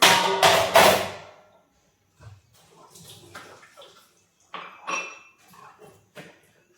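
A frying pan and other kitchen utensils are scrubbed and washed, heard as bursts of close clattering and rubbing with a rush of water at the start, followed by scattered quieter scrapes and clinks separated by short pauses.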